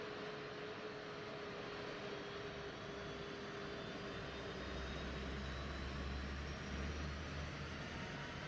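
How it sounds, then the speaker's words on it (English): A simulated F-15E Strike Eagle jet engine spins up in a combat flight game, a steady broadband whine and rumble with a low hum rising partway through, continuous and fairly even. "Starting engine number 1."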